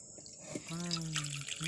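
For a potato bhungla masala paste, a little water is poured into a bowl. A short close trickle and a drip or two are heard, faint and brief, with no talk.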